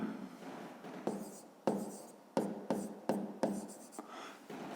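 Pen writing by hand on paper while working a fifth-grade math exercise: soft scratchy strokes with several sharp pen taps, close and fairly quiet, with no talk.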